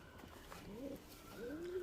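Pigeons in a loft, including a female bird, give soft low cooing calls, two rising coos heard close but quiet over a faint room hum, with no talk.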